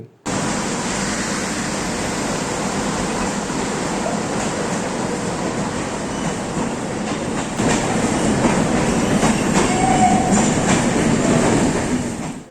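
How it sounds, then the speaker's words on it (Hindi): A passenger train in India rolls steadily along the rails between Gurgaon and Bandikui, heard from inside a sleeper-class coach as a loud, continuous rumble with a rhythmic clickety-clack that swells slightly near the end. "इस ट्रेन से हम बांदीकुई तक जाएंगे।"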